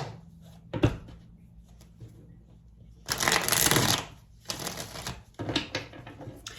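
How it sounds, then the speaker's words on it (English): Tarot cards being shuffled and pulled, a sharp snap followed by bursts of riffling and flicking card sounds, close and fairly loud with no talking. "All right, let's pull some more cards."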